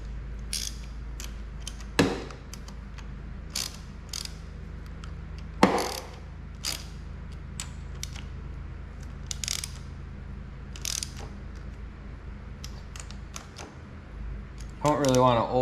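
A ratchet works small bolts on the handlebar of a 2018 Honda CB500X motorcycle, brisk bursts of clicking separated by short pauses and a couple of louder metal knocks, close by, with someone talking now and then.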